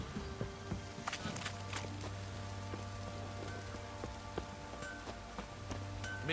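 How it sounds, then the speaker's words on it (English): A rain downpour in The Witcher 3 patters steadily on surfaces, with scattered drips, faint thuds and a low background hum. The sound is fairly quiet. "Midges were biting on account of this downpour."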